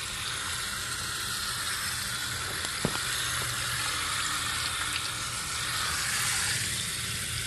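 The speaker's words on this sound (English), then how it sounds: "just rinse off the wheels and brakes real quick, just to show you how much comes off just with a little bit of water." Water spraying steadily over a car's wheels and Brembo six-piston brakes, a constant close hiss and splash of rinsing with no pauses, a brief knock near the middle.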